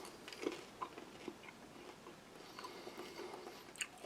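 Crisp, irregular crunching and biting close to the mic as a hard-shelled peppermint gum pellet from a Norwegian Arctic field ration is chewed, with soft wet mouth sounds between the bites.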